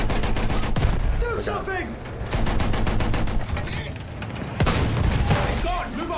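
Battlefield 1 gunfire, loud and close, with repeated shots and sharp bangs near one, two and a half and five seconds over battle din while someone shouts urgently.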